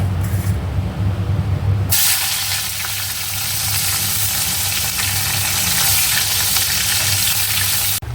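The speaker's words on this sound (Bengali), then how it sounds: "মাথার ঝোলটা একটু মোটামুটি ফুটে গেছে এবার ভেজে রাখা মাছ আর বেগুনটা দিয়ে দিলাম" Fried fish and eggplant dropped into a simmering fish-head curry in a home kitchen give a sudden loud, steady sizzle that continues without talk.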